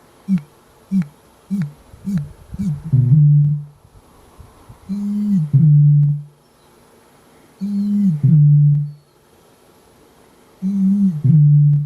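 A male bittern booms, a deep hollow foghorn-like call. Short grunting intakes run into three or four long resonant booms spaced a few seconds apart, loud and close, with quiet gaps between them.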